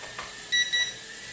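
Two short electronic beeps in quick succession from a BetaFPV-style B03 Pro tiny whoop drone, high-pitched and clear over a faint background hum.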